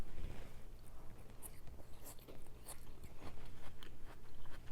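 Someone eating a watermelon and apple salad with cilantro, giving repeated close crunchy bites and chewing alone with no talk.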